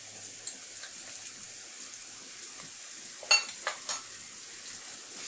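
Spices, salt, chili powder and turmeric stirred together with shrimp in a pan, with a soft steady sizzle and a few brief scraping clatters of the spoon midway.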